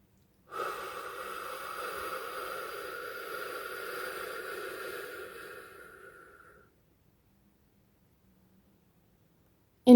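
A single long, slow breath drawn during a guided breathing exercise, steady and close for about six seconds, then silence.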